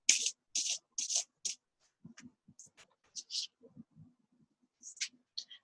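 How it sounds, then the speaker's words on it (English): Quick bursts of tarot cards riffling and sliding against each other, followed by soft taps and rustling as cards are handled, close and quiet. "I'll shuffle the deck and I'll draw us 3 cards"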